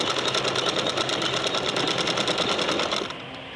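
Sewing machine stitching a hem on fabric, a fast, even mechanical rattle running steadily up close, then stopping abruptly near the end.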